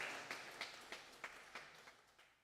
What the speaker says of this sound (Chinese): 咱这是用掌声来欢迎